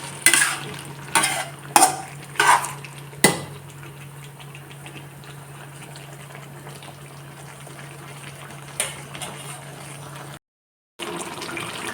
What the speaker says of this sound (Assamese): এইখিনি তাতে পানী অকণমান দি পেলাই এয়া দি দিছোঁ বেছি নিদিওঁ অলপ অলপ দি ভাজি থাকিম